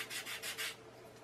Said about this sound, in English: Just sanding it from one side, not both sides.